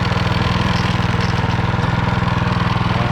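Engine of a geared machine with an auger, running in first gear with a loud, steady, rapid chugging pulse close by and no voices.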